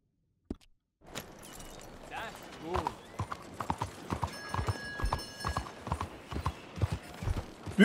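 Horse hooves in Red Dead Redemption 2 video game: a steady clip-clop of close hoofbeats with jingling tack, rising in pace over a low outdoor bed, while someone talks over it.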